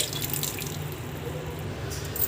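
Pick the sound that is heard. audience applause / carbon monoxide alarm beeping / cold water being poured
cold water being poured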